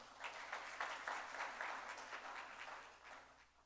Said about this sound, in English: So round of applause for the Victory Center